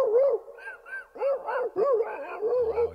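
A voice imitates a fight between dogs, with a rapid series of yelping, growling barks and whimpers in uneven bursts, loud and close.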